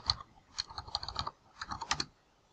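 Typing on a computer keyboard while logging into a Linksys router setup page, with irregular bursts of close, crisp key clicks and short pauses between them.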